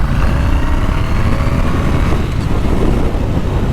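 A Triumph T120 1200cc motorcycle engine pulls hard in second gear on an open road, a loud, steady, rough roar with heavy wind rush and no voices.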